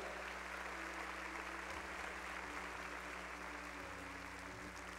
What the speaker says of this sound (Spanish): Démosle un aplauso también a aquel que está allá arriba.